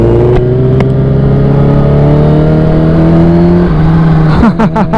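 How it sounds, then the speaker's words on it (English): A 2016 Kawasaki Ninja H2 motorcycle engine drones loudly while being ridden, a steady high-pitched tone holding and shifting slightly, with wind rush and a gear change near the end; no talking. "So here I am, riding my Ninja H2 for the first time."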